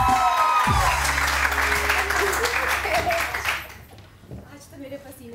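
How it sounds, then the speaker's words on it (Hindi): Studio audience applause on a morning TV show's saree special, clapping under someone talking, then fading out as the room quiets. "अरे ये लोग तालियां बजाएंगे।"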